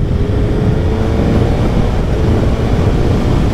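A 2024 Suzuki Hayabusa motorcycle in sport mode gives a constant, loud, dense roar of engine and rushing wind while riding, steady throughout with no gaps.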